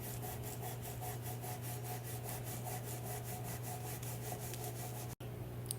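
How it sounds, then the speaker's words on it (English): Cotton rag rubbing back paint on a Kimple Translucents rooster project, a steady rhythmic scrubbing with repeated strokes about every quarter second, close and continuous over a constant low hum, ending in a brief dropout. "Using your cotton rag, pull back."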